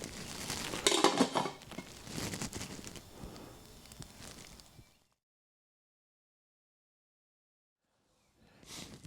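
Chicken is stirred into a peanut curry in a pot: close scraping, clinking and wet stirring for a few seconds, then silence, and a brief clatter returns at the end.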